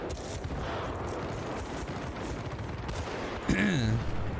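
Dense rifle and pistol fire from an AEK assault rifle in a Battlefield game on the Port Valdez map, a sustained mass of overlapping shots with a brief voice heard near the end.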